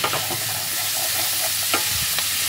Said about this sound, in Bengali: এবার একটু সময় নিয়ে হাই হিটে সবজিগুলোকে আমি ফ্রাই করে নেব